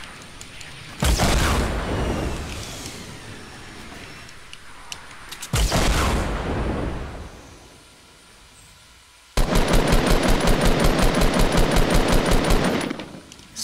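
Automatic gunfire in the video game Fortnite, loud and close: two sustained noisy bursts, then a rapid, evenly spaced run of shots lasting several seconds.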